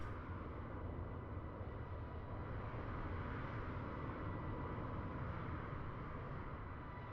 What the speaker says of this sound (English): I can hear an aeroplane.